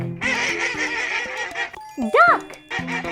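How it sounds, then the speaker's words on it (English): A duck quacks in a series of short nasal calls, loud and close, following a stretch of bright music that fades out before the quacks begin. "duck."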